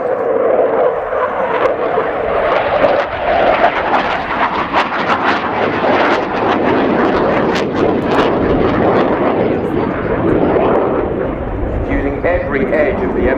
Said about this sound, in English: Using every edge of the envelope of this Rafale aircraft from +9 to -3G.